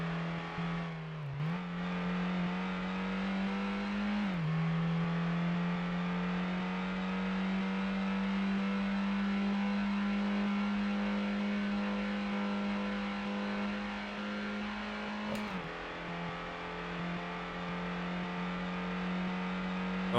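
Ford Mondeo engine in the PS1 racing game Ford Racing, a steady droning hum holding one pitch for a long stretch, with a couple of brief gear-shift dips and rises, alone and fairly loud.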